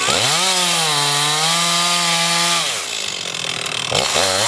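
Chainsaw cutting hardwood logs for firewood, a loud close whining drone that holds steady as the blade bites through the wood, then drops off and rises again in short revs.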